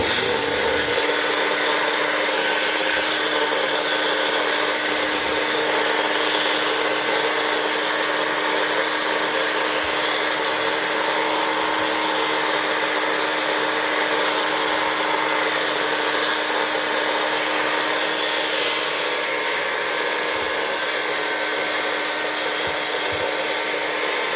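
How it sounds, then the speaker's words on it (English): An electric grinder whirs steadily as it powders dried moringa leaves, producing a continuous high-pitched motor whine with a rough grinding texture that stays even and loud for the full duration, with no talking. "if you have a grinder, you could do it in there, so it's going to make a little noise"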